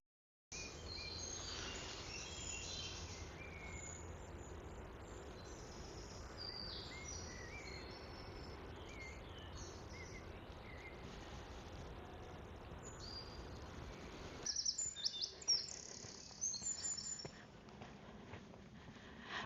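Birds sing and chirp through English countryside woods, scattered calls over a steady hiss of insects and rustling, with footsteps crunching louder near the end.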